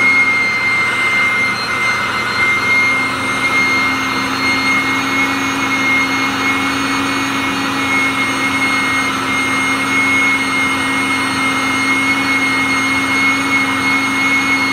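An electric pump inflating an inflatable drones with a loud, steady, close whine and a continuous tonal hum that holds unchanged throughout, without talking.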